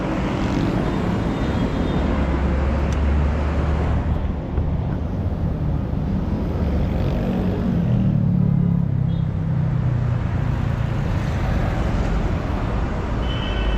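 Motorstar Easyride 125fi Legend CVT scooter on the move, its engine humming steadily under heavy wind and road rumble that swells slightly as speed builds.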